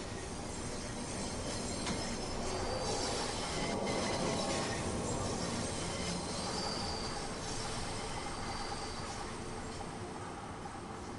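London Underground Bakerloo Line train in Train Sim World 3 running steadily, a dense continuous rumble of wheels on rail with faint squeals and clatter throughout, no voices.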